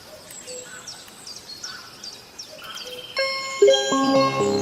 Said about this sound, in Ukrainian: Спів пташок.